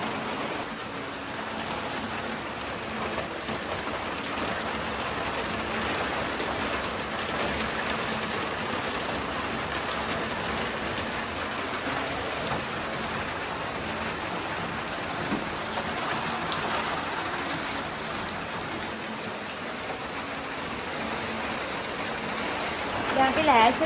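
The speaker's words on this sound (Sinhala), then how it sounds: "ඉතින් වීඩියෝ කරන්න පුළුවන් මේ දැන වහිනවා හොඳට" Heavy rain pours steadily for the whole stretch, a dense, even hiss of falling water with no break.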